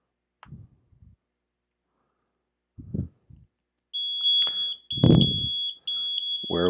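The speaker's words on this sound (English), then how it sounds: "We're aware of that alarm. Shouldn't be doing that." An electronic alarm beeps in a restaurant setting, a shrill repeating tone that sounds in short bursts after brief voices, fairly loud and near, with a voice talking over it.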